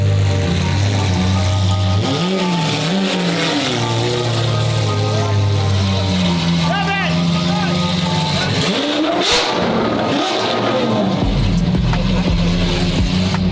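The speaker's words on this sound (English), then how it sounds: "amazing car, all the noise" A car engine hums steadily and rises and falls through several revs, loud and close, with a voice talking over it at times.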